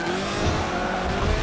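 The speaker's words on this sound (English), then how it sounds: "this car sounds really good" A race car engine roars steadily, with tires squealing, in Forza Motorsport 7 racing gameplay. The sound is loud and close, with no talk.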